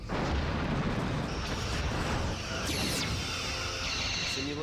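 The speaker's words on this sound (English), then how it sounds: "Simulated enemy galaxy class has been destroyed." A simulated Galaxy class starship is destroyed in a Star Trek video game battle, a dense, loud, continuous rumble of explosions and weapon fire with sweeping effects throughout.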